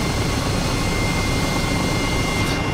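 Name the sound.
helicopter flying over a harbour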